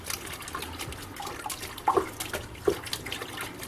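A qiviut garment being hand washed and worked between the hands in a basin of water: gentle sloshing and trickling, with a few sharper splashes and drips close by.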